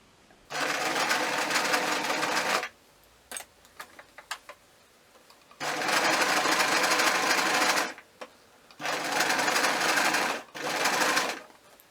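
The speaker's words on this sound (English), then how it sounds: "So I'm just going to do a straight stitch all the way around" A sewing machine runs a straight stitch around a hat in three sustained close bursts, separated by pauses filled with small ticks and clicks as the fabric is repositioned.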